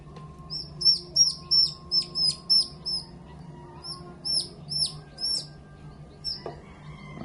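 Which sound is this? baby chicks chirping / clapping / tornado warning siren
baby chicks chirping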